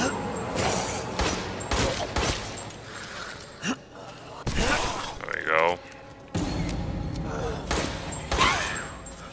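Gunfire from the video game Resident Evil Village, several sharp shots and mechanical weapon sounds in bursts separated by short gaps, mixed with creaks and game effects at moderate loudness.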